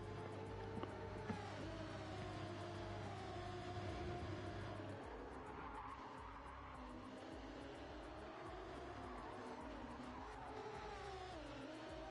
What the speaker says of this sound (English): Sounds like there's a lot of tyre squeal from one of the leaders.